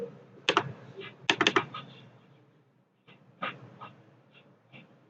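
Keystrokes on a computer keyboard while writing a document in Linux Mint, heard as two quick bursts of clicks, then a pause and a few scattered taps, close and fairly clear.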